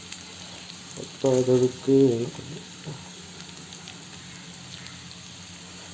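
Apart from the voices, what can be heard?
onion frying in oil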